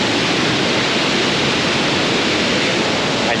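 Iguazu Falls in South America roars as a steady, loud, close wash of broadband water noise with no let-up and no voices.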